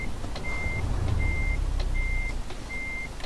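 Truck reversing alarm in Euro Truck Simulator 2, four steady evenly spaced beeps over a constant low engine rumble, clear and prominent.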